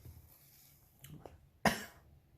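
A single sharp cough, close and fairly loud, after a couple of softer throat sounds in a quiet room.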